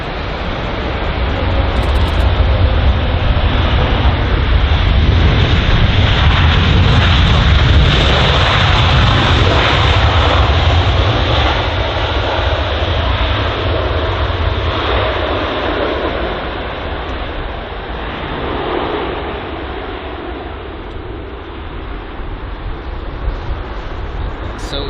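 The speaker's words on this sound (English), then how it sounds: "So some news about the Emirates A380. It's just entering the runway right now." A large four-engine jet, an Emirates Airbus A380 at London Heathrow, rumbles steadily at close range as it enters the runway, a broad loud engine roar that swells and then eases slightly while the aircraft moves.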